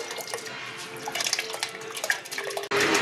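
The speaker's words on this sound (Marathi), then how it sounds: "हे बघा आपलं पाणी आता थोडंसं गरम झालेलं आहे, तर आपण ह्याच्यामध्ये टाकूया" Warm water splashes and trickles steadily into a pot holding a kilo of rice for chicken biryani, with small drips and a louder gush at the end.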